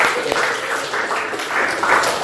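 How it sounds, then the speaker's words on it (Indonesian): Classroom applause for students at a vocational high school, a short burst of clapping that swells and fades in pulses over roughly two seconds, with a murmur of voices underneath. "Tepuk tangan untuk kalian semua ya"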